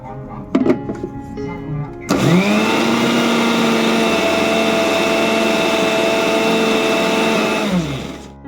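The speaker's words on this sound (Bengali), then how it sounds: "মশলা বলতে আদা, রসুন, পেঁয়াজ, টমেটো, কাঁচা লঙ্কা, এটাই পেস্ট করে নিলাম।" Mixer grinder blending ginger, garlic, onion, tomato and green chili into a paste, starting with a thunk and a whining rise, then running loud and steady for several seconds before winding down.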